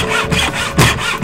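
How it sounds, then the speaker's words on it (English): A hand saw rasps through wooden picture frame moulding at a 45-degree mitre angle, loud and close, in steady back-and-forth strokes with no voices. "The wood is cut at a 45 degree angle, called a mitre cut."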